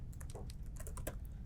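Quick, close keyboard typing at a terminal, a short burst of light key clicks in uneven rhythm with no voices.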